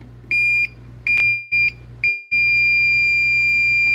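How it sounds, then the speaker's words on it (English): A handheld circuit tracer emits a steady high electronic tone in several short beeps, then one long continuous tone, close and clear over a low electrical hum. "Got the positive beep there."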